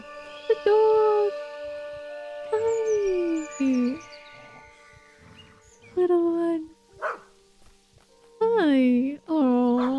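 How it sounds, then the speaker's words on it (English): A dog in the video game Maid of Sker whimpers and howls in drawn-out, rising and falling cries, with a few short barks, while a person speaks briefly between the calls. "Aww, the dog!"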